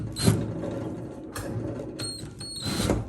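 Short mechanical clicks and ratcheting taps from loosening a fitting on a refrigerator door hinge, two small bursts near the start and end with quieter handling noise between.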